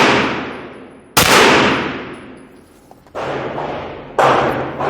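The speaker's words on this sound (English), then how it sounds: "Go ahead and shoot a few rounds." Several loud gunshots from a Smith & Wesson FPC carbine at an outdoor shooting range, three sharp reports spaced about a second or two apart, each with a long decaying echo.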